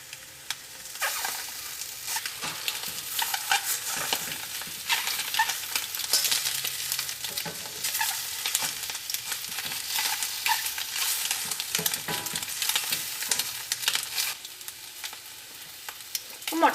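Boiled eggs fry in hot oil on a medium flame for a Kerala egg roast, a steady crackling sizzle with frequent sharp pops and spatters, close and fairly loud, with no talking.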